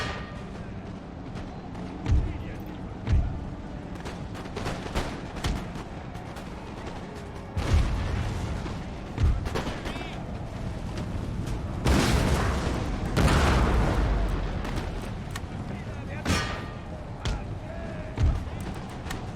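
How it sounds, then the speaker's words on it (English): Cannon fire booms across a battle in the strategy game Empire: Total War, with repeated deep thuds and blasts, some near and heavy, others distant, under a speaking voice. "Are they firing at this set of cannons?"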